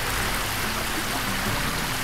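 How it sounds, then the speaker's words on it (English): Creek water on an acreage property runs steadily close by, a continuous broadband rushing with no breaks and no voices. "You can hear the creek there."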